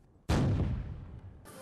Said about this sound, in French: au rythme de 101 coups de canon